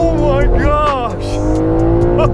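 A BMW accelerates hard in first gear, the engine note rising steeply in pitch and then settling into a strong, steady drone, with a person talking over it inside the car.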